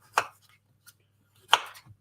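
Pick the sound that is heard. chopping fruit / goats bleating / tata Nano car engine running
chopping fruit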